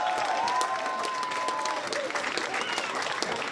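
An audience at an Elks Irishman of the Year celebration applauding and cheering for Carol, steady loud clapping with scattered shouts and a whistle-like cry early on.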